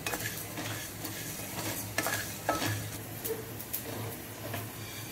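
Garlic cloves frying in a pan with dried prawn shells, a low steady sizzle under repeated stirring scrapes and light clinks of a spoon against the pan.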